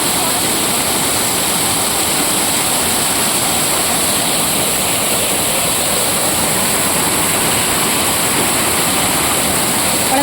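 Waterfall roaring in a steady, dense, unbroken rush of falling water, loud and close throughout, during an evening bath outdoors with a group.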